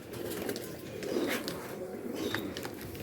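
Pigeons coo softly in a breeding loft, low murmuring calls under a steady hum of background noise and faint bird chirps.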